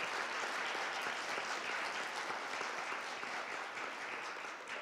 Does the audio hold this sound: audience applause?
yes